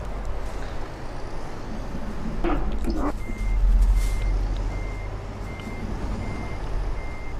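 Truck reversing beeps in Euro Truck Simulator with the Scandinavia DLC: a steady series of evenly spaced high beeps over a low, continuous engine rumble, with a brief louder mechanical burst partway through.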